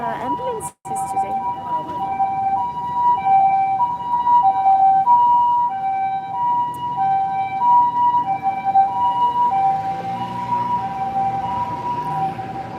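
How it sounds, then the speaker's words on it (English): Ambulance sirens in Tokyo wail continuously in a steady alternating two-tone pattern, fairly loud and close, with traffic rumble underneath. "lots of ambulances today."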